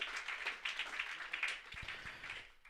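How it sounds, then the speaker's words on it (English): Faint, distant applause from an audience at a book launch for a book on the families of Valentia, a steady patter of clapping for nearly three seconds that ends in a few soft taps. "Give a big round of applause."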